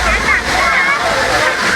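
Water from an artificial waterfall at a family resort water park, a steady loud splashing and sloshing rush, close by and unbroken across the short stretch.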